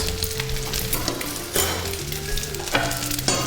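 Meat chops sizzle steadily in a frying pan, a close continuous crackle broken by a few sharper clatters and scrapes of utensils, with no talking.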